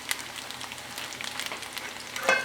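Tofu fries in hot oil, a steady crackling sizzle with scattered pops throughout and a brief louder spit near the end.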